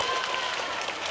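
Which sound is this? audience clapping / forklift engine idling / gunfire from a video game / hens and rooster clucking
audience clapping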